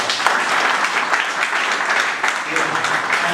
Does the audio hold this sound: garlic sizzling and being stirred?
no